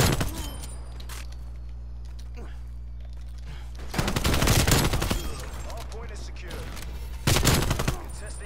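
Bursts of M4 rifle fire in Call of Duty: Black Ops Cold War hardpoint play, with two loud volleys over a steady game background hum while a player talks.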